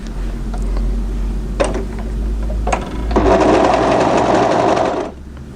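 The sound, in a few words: sewing machine stitching dress fabric at the side seam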